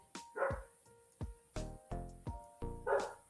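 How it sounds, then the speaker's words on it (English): A dog barks several times in short, separated yips and bow-wows, fairly close and clear, with a few sharper high yelps among the lower barks and no talking over them. "Baba, who are you barking at?"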